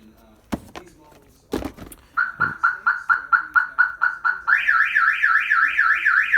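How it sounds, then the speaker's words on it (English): After a couple of sharp thumps, a Viper DS4 alarm on a 2017 Dodge Charger starts with rhythmic repeated chirps, then switches to a loud warbling siren close by. "As soon as I threw that box inside, it activated the alarm."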